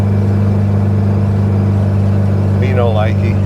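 A 1967 VW Beetle drives with a bent wing window letting in air, giving a thin, steady whistle over a loud, constant engine and road drone, with a brief voice near the end.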